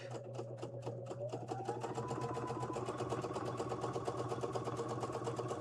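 A sewing machine stitches a quilt in a fast, steady run of needle strokes over a motor hum that climbs slightly in pitch, close and continuous with no voices.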